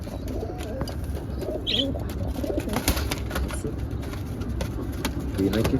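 Pigeons coo repeatedly close by in soft low murmurs, with occasional chirps and rustling over a steady background hum.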